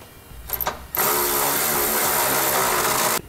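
A power tool runs on the bolts of Firestone Ride-Rite air helper springs on a 2013 Ford F-150, with a few short bursts followed by a loud sustained whirring run of about two seconds that stops abruptly.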